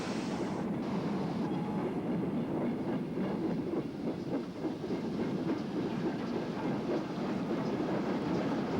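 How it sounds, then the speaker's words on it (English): A ballast train runs along a railway during post-war reconstruction in the 1940s, its steady rumble and rhythmic clickety-clack of wagon wheels over rail joints continuing loud and close for the whole stretch. "Frequent ballast trains attest to the reconstruction still going on."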